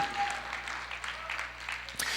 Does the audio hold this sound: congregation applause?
yes